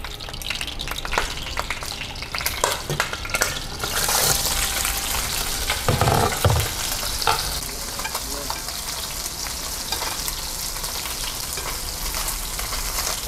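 Loud, close crackling of climbing perch deep frying in hot oil, with stirring scrapes and a brief surge of spitting midway, no voices.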